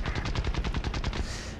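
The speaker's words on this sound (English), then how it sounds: "I'm just going to keep on popping machine gun rounds into him." Aircraft machine guns in the War Thunder video game fire a loud, rapid, steady burst of evenly spaced shots, close and continuous for over a second before tapering off.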